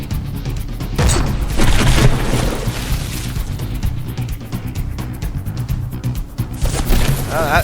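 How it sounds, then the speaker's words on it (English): A naval gunfire volley in the From The Depths battleship game, a burst of heavy booms and crashing impacts in quick succession, followed by rapid repeated shots and rumbling explosions. "That volley just completely missed."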